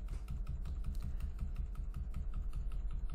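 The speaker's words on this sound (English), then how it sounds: "Keep going, I'm using the arrow keys here to do that." Keys on a computer keyboard are tapped in a quick, steady run of close, crisp clicks, as arrow keys are pressed repeatedly while adjusting text spacing in InDesign.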